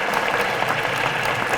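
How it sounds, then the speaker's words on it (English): Loud, continuous applause from an audience at an award ceremony honoring brave men and women, dense overlapping clapping holding at an even level from start to finish. "Let's give a round of applause."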